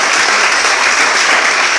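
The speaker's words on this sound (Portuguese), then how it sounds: "Uma salva de palmas ao Senhor." A church congregation claps together in a loud, dense burst of applause, many hands close and continuous across the short stretch with no voices standing out.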